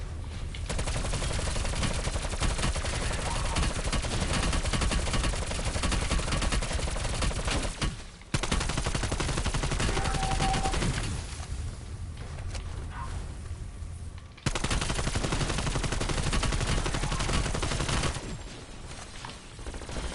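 Sustained rapid video game gunfire rattles nonstop while zombies are shot on a zombies map, with loud automatic bursts broken only by two brief pauses.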